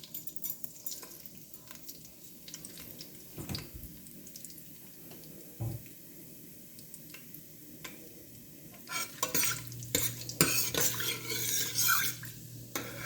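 Whole fennel seed, star anise, cinnamon stick and cloves stirred in hot ghee in a pan for chicken korma, with steady scraping and clinking of a utensil, soft sizzle underneath, growing busier and louder toward the end.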